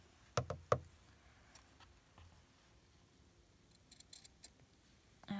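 Scissors snipping through a paperclip embellishment: two or three sharp close clicks early on, then quiet, followed by faint small ticks and rustles of handling in a quiet room.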